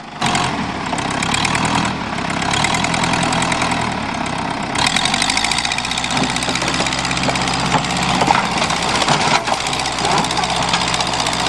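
An old Mercury Marquis engine running steadily, a loud rough mid-pitched drone with knocking texture that holds throughout, shifting slightly in tone a couple of times.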